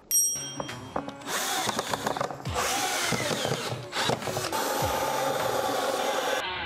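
A power drill drives screws into wooden table pieces, with repeated whirring bursts, scraping and knocking of wood in between, close and loud with no talking.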